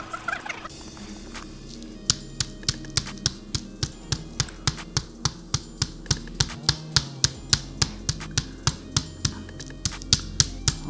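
Raw chicken pounded flat to tenderize it, a long run of sharp, evenly spaced thuds, roughly two per second, close and crisp over a faint background.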